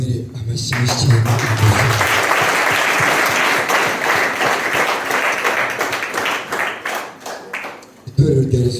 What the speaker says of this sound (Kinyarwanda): Mbabarire twongere dukomere amashyi menshi cyane